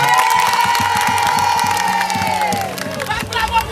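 Crowd at a ceremony cheering and shouting loudly, with children's voices, some clapping and rhythmic drum-like thumps underneath, an energetic swell that fades and becomes more scattered near the end.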